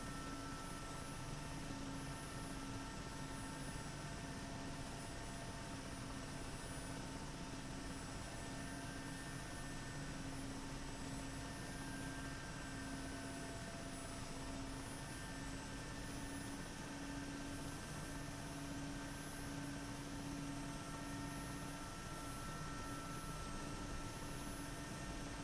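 Mi-8 helicopter in the DCS flight simulator taking off from a runway: a constant, even rotor and turbine drone with steady tonal whine, continuous and unchanging, no voices.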